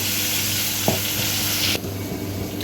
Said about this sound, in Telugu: అల్లం వెల్లుల్లిపాయ పేస్టు వేసేసుకున్నాం ఇది కూడా ఫ్రై అవ్వాలి